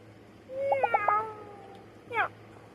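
A cartoonish cat in the farming life-sim game My Time at Sandrock gives a quick run of four short meows, then one more rising meow after a pause, all clear and close over a low background hum.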